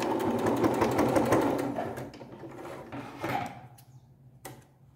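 A sewing machine runs steadily as it stitches a French seam along a dish towel, its motor whirring loudly and close, then slowing and stopping with a few scattered clicks and taps toward the end.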